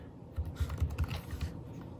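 Quick bursts of typing on a computer keyboard at close range, a rapid series of firm, thumpy keystrokes, with no talking.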